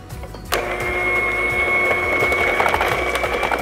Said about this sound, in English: I like to use a mixer for this because we have that lemon zest in there